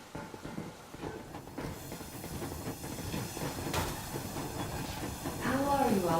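A steam train rolls along steadily in the video game Metro Exodus with a continuous hiss and rumble, a clatter peaking midway, and faint speech-like sounds near the end.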